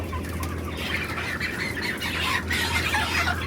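Inside a controlled broiler shed, 26-day-old chickens cluck in a dense continuous murmur, with wing flapping and rustling mixed in over a low mechanical hum.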